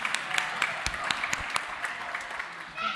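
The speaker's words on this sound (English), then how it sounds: "So give yourselves a round of applause" A modest group clapping at a family Advent evening liturgy, scattered individual claps standing out over a thin, fairly quiet patter, with a voice starting near the end.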